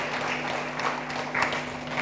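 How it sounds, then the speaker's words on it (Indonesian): A church congregation breaks into steady applause during an online Easter worship service, dense clapping from a crowd that holds at a moderate level and swells slightly toward the end. "Yang setuju berikan tepuk tangan meriah buat Tuhan kita"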